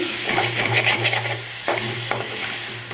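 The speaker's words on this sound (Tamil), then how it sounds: "சேர்த்து நல்லா வதக்கிக்கோங்க இப்படி" Egg thokku masala with chicken masala powder and sambar powder being sautéed in a pan, a steady close sizzle with scraping stirring strokes and a low hum underneath, no voices.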